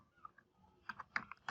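Text is typed on a computer keyboard in close, crisp, irregular keystrokes, with a few soft taps at first and then a quicker cluster of sharper clicks.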